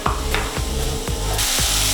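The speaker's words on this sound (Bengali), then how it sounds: "পেঁয়াজ আর গাজরটা বেশ হালকা ভাজা হয়ে গেছে, এবার এর মধ্যে আমি বিনস অ্যাড করছি।" Beans tumble into sizzling onion and carrot in a pan, loud steady frying crackle with repeated scraping stir strokes about every quarter second, no voices.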